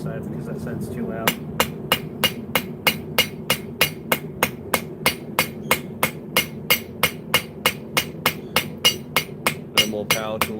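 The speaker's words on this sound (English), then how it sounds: "I was built to hammer." A hammer strikes hot metal at a forge where leaf key chains and an axe head are being made, ringing in a steady, loud rhythm of about three blows per second, with brief voices at the start and end.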